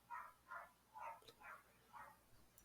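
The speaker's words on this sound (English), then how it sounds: "Excuse me for the dogs barking if you can hear them outside" Dogs bark outside, far off and faint: five evenly spaced barks across a few seconds, with no other sound nearby.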